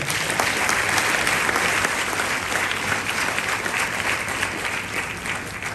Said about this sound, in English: a round of applause to all the schools that came here